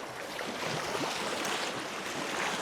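Ocean waves washing onto a shore at night, heard as a steady, loud broadband wash of surf mixed with wind buffeting the microphone and no clear pauses between waves.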